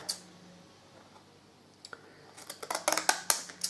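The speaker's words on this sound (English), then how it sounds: "grab your little fancy scissors" Small decorative scissors snipping through card paper for a 3D Santa Christmas card, first a few soft isolated clicks, then a quickening run of sharp, close cutting snips toward the end.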